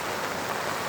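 Torrential rain pours beside the Ganga in Rishikesh, a dense, unbroken hiss of heavy downpour.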